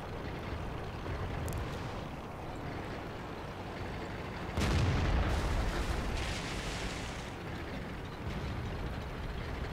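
Tank gunfire in the World of Tanks video game, an M6 heavy tank battle, with a heavy booming blast partway through over a constant rumbling engine and battle background.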